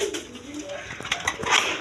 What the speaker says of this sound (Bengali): এখানে রাজগোল্লা কবুতর আছে মিলি কালারের মধ্যে